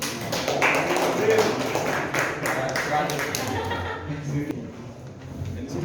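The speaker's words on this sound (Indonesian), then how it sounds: "Ya, tepuk tangan untuk kelompok 1." Audience applause for a school group at a teaching session, a dense sustained patter of hands clapping through the whole stretch with some chatter mixed in.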